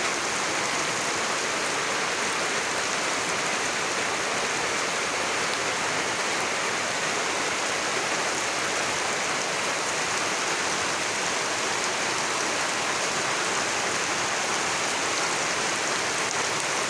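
Steady rain falls heavily and evenly outdoors, a continuous close hiss of drops with no break and no voices.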